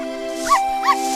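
A cartoon dog in a French animated children's story gives two short, bright yips about a third of a second apart, heard over sustained background music.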